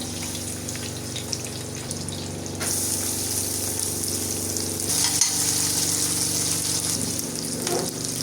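Mustard seeds, urad dal and a large chopped onion frying in a ladle of oil: a dense, continuous crackling sizzle that swells louder midway, with faint stirring, close and steady, no talking.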